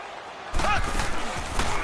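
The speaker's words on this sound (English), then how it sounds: "the crowd getting into it as we come up on a big 3rd down" A roaring football stadium crowd swells suddenly and stays loud, cheering ahead of a big third down at a game, a dense steady wall of noise.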